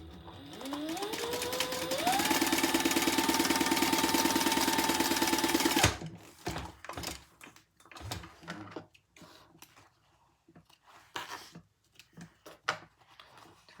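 A sewing machine stitching interfaced fabric that frays, its motor spinning up into a steady close whirring hum for about six seconds before stopping, followed by scattered light clicks and handling noises.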